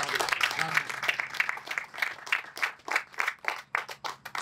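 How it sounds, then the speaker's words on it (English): Scattered applause at a funding announcement for Indigenous youth supportive housing, moderately distant, thinning into individual irregular claps toward the end. "you need to give them a round of applause"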